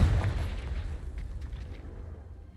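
A Confringo blasting spell exploding in Hogwarts Legacy, a heavy booming blast whose rumble fades away over a couple of seconds.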